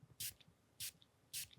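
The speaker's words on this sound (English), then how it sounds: "So I'm gonna spray a little bit of it right here." Three short, bright hissing bursts of a sandalwood, vanilla and peppermint room spray, evenly spaced and close to the microphone, with faint quiet background between pumps.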